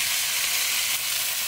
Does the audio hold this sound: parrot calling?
no